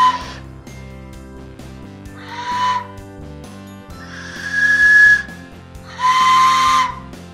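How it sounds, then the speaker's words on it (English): A dollar-store toy train whistle blown in three breathy, hissing blasts, each a few seconds long, loud and close over a faint background, sounding like a real train whistle. "it actually sounds like the real train whistle"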